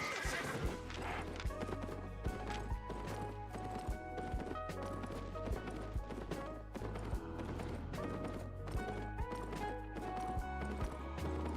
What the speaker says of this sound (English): The name of the horse skin is this horse Feratu.